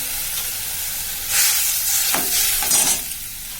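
Fish curry sizzling and frying in a pan, a steady close hiss that swells as the food is stirred, with a few soft scraping strokes and no talk.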